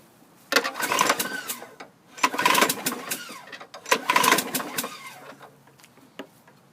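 A 2009 Craftsman 6.5 HP push mower with a Briggs engine is pulled over three times, each pull giving a loud rasping, knocking burst of cranking that does not catch, with quiet gaps between the pulls.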